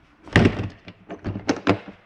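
The exterior door of a 2022 Jayco Jay Flight SLX 264BH travel trailer thunks shut, followed by several clicks and knocks of the lock and deadbolt, close and fairly loud.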